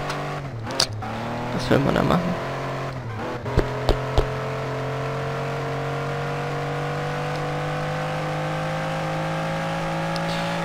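A car in the video game Life of German drives along with a steady engine drone and a brief revving rise, close and even, while someone talks over it at the start.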